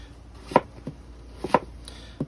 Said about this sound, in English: I'll do some thin slices